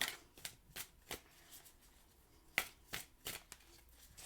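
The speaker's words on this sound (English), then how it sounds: "No, I need more shuffles." Tarot cards are riffled and shuffled in quick, crisp bursts, a series of soft flapping snaps up close in a quiet room.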